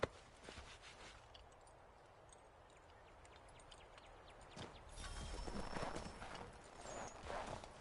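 Horse hooves clip-clop steadily on the ground in Assassin's Creed III, a faint continuous trotting rhythm that grows slightly louder toward the end with soft ambient rustle around it.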